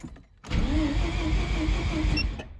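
A streetported rotary engine in a Mazda RX-7 cranks and catches, then settles into a rough, throaty idle that hums steadily close by, with a brief higher whine near the end.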